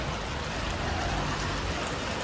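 Steady rain pours down outdoors on a trip in the Pali and Panvel area, a dense, even hiss that holds loud and close without a break.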